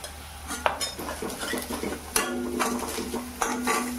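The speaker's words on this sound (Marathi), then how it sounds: "हळद टाकल्यावर पण आपल्याला ढवळायचं आहे व्यवस्थित, म्हणजे आपली हळद पण शिजून जाते तेलात।" Onions and turmeric in hot oil are stirred in a pan with a metal spoon, giving repeated scraping clinks over a low sizzle, close up, with no voices.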